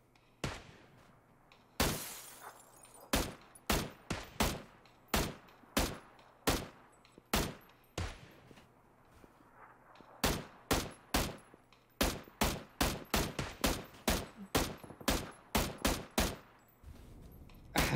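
Gunfire in a crowded battle royale video game: a long run of sharp, cracking shots, single at first and then in quicker clusters, each distinct and fairly close against a quiet background.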